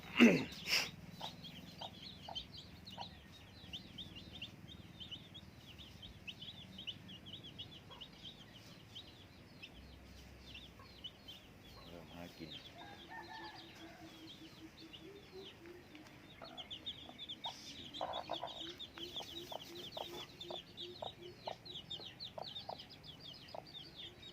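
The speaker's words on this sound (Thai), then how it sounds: "ไก่สีเผือก" Soft, repeated chicken clucking and small peeps from hens and newly hatched white chicks carry on in a quiet yard, with a brief rustle at the start and scattered chirps throughout.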